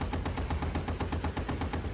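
Rapid automatic gunfire in the World War II shooter Battlefield 1943, a loud, steady burst of evenly spaced shots at about eight per second, continuous for the full two seconds with no talk.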